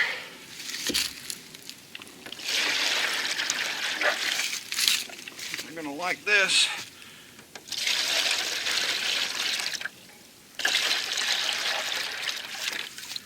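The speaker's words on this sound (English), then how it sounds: "And let's pour 2-to-1 sugar water." 2:1 sugar syrup pours in steady trickling bursts into a top feeder on a honey bee hive, stopping and starting, with a person speaking briefly between pours.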